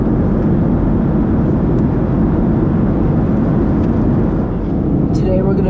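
Boeing 737-700 cabin during descent into Fort Lauderdale, a steady loud low roar of engine and airflow filling the cabin without letup, with a faint clink near the end.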